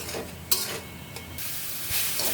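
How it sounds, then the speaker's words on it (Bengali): Jute leaves frying in a pan without turmeric give a steady, close sizzle, with a few sharp scrapes and clacks of a spatula stirring them; no voices. "আমার পাট শাকটা ভাজা কমপ্লিট"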